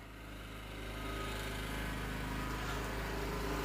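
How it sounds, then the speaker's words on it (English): A lawn mower runs outside while grass is cut, a steady droning engine hum that grows slightly louder and holds constant, heard from indoors through a window at moderate distance. "Can y'all hear them mowing my grass outside or no?"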